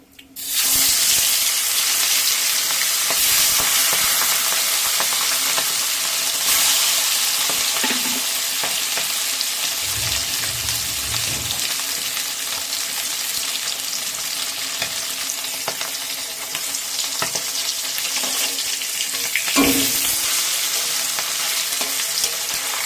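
Hilsa fish pieces fry in hot oil with a loud, steady sizzle that runs throughout, joined by a few brief clatters and stirring sounds.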